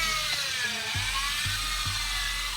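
A power drill bores through a wooden pergola beam for a carriage bolt, its high whining buzz loud and steady throughout, with a few brief dips in pitch as the bit bites into the wood.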